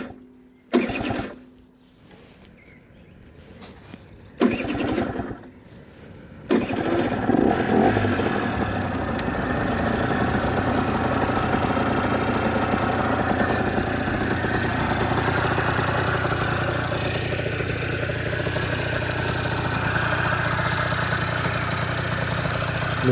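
A Yamaha TZR 50 motorcycle engine with a freshly cleaned carburetor coughs through a few short start attempts, then catches and settles into a steady, even idle that runs on loud and close.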